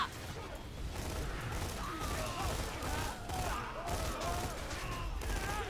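Rapid automatic fire from the Veruc gun in Borderlands 2 with a Community Patch 2.0, a dense continuous rattle of shots mixed with game effects and booms at a fairly even, moderate level.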